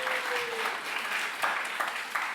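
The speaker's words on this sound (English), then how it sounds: "A special, round of applause." Audience applause at a lecture at a university collegiate, a steady wash of clapping from a crowd that fills the whole stretch, with a few sharper individual claps standing out near the end.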